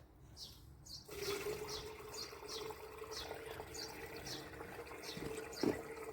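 Water runs steadily into a camper van's tank, a continuous rushing fill with a brief clunk near the end, heard alone at moderate distance.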